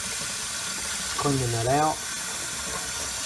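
Water briefly gushes and sprays out of the side vent of a Kangertech Subtank Mini vape tank during cleaning, a close spurt under a second long, with someone talking around it.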